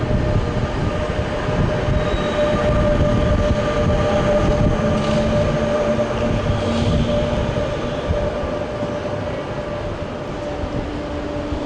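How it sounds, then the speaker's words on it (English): A Thalys train standing idle at platform 15 of a station, its steady mechanical hum and rumble continuous and close for the whole stretch, with faint station ambience and no voices. "my train, which is currently just sitting there, will depart from here in a little bit"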